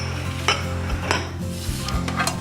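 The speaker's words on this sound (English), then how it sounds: "Now I'm going to grab my pans" Metal baking pans for monster cookies are picked up and set down on a kitchen counter, a few close clanks and scrapes spaced across a short moment.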